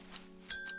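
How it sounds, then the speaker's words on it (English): A small bell rung by accident in the Strange Horticulture video game, a single bright chime that rings out suddenly and lingers, fading slowly over a steady low background hum. "I accidentally rang the bell"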